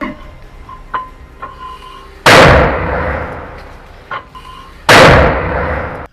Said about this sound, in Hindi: अल-अक्सा ब्रिगेड ने आईडीएफ के कमांड और कंट्रोल चौकियों पर मोटर गोले दागे हैं